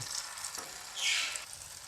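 Okra frying in a pan of hot oil, with a fresh batch just added, gives a steady, close crackling sizzle that swells into a louder burst near the middle and then settles back.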